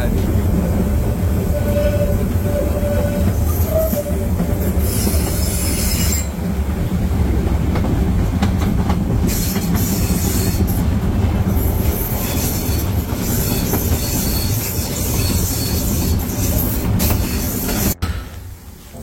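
A locomotive heard up close from the open balcony of the coach coupled right behind it, with a loud, continuous engine roar, rumbling wheels, rail clatter and occasional squeal sustained throughout before fading near the end.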